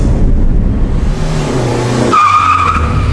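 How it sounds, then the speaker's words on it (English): An expensive black car with tinted windows pulling up in front of a hotel: a loud, close engine roar with a sharp tire squeal rising near the end. "an expensive black car with tinted windows drove up in front of the hotel"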